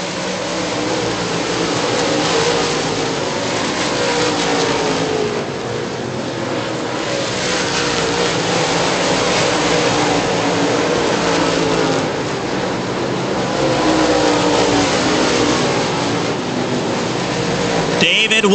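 Late model race cars roar continuously around a speedway, a loud sustained engine drone with shifting pitch as cars pass, under an announcer's commentary.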